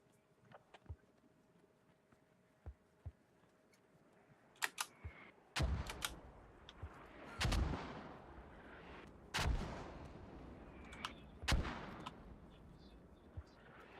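Mortar fire in the military video game Squad: four heavy booming impacts roughly two seconds apart, each with a rolling rumble, following scattered faint clicks and distant pops.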